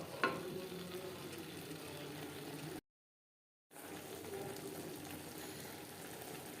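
Mushroom curry sizzles and fries in a pan over a high to medium flame, a continuous close crackle interrupted by a brief silent gap.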